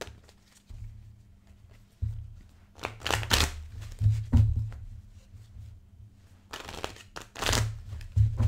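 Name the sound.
shuffling tarot cards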